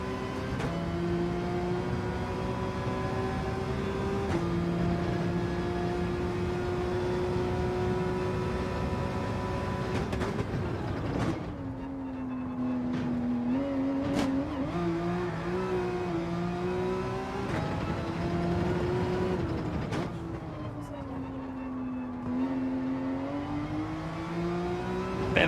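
A race car engine in Gran Turismo 7 revs loud and close, its pitch climbing and dropping through gear changes as it accelerates and lifts off the throttle around a lap, with no voices.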